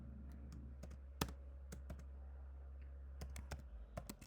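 Someone types on a computer keyboard while entering database records, making scattered, close key clicks in short uneven bursts over a faint low hum.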